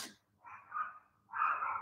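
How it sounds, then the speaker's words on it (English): Dogs belonging to a neighbor bark in the distance at dusk near a home tea herb garden, two faint, drawn-out bursts of barking separated by a short pause. "can you hear the neighbor's dogs?"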